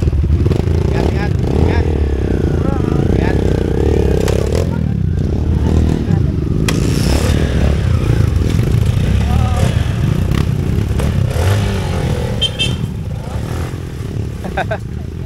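An adventure motorbike engine runs loud and close for the whole stretch, a steady rumbling drone with some revving and clatter, while people talk over it.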